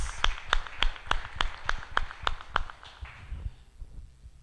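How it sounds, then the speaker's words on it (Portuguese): Congregation clapping in church, a round of applause of about ten strong, evenly spaced claps that taper off into a quieter room tone. "Uma salva de palmas ao Senhor"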